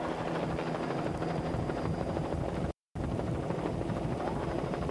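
Steady, loud thudding drone of a helicopter flying close by at about 80 mph over a 1997 offshore powerboat race in Guernsey, continuous apart from a split-second dropout midway.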